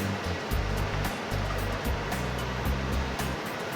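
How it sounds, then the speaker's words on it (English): Mushrooms sauté in melted butter in a pan, giving a steady, close hiss and crackle that runs throughout with small pops and no talk. "So we got a separate pan here with some melted butter, and then it's time to saute some mushrooms."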